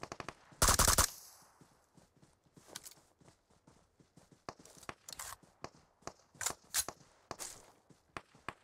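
Gunfire in a shooter video game: a loud opening burst of shots followed by a run of sharp, scattered single reports and short bursts at irregular intervals, with no talk over them.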